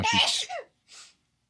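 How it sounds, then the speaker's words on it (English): A single sharp sneeze bursts out close up, followed by a short breathy sniff, then silence. "we're not making any more cuts just for a sneeze"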